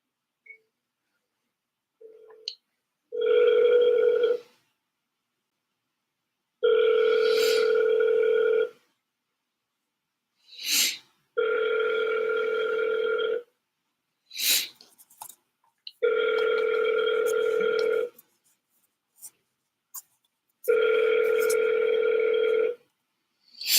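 An outgoing telephone call rings out during cold calling, giving five evenly spaced ringback tones of about two seconds each, with short clicks and faint noises between them and no talk.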